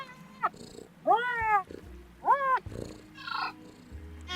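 A cat character in the video game Yoku's Island Express makes a run of meows and chirping cat calls over a low purring rumble, with three drawn-out cries in the middle.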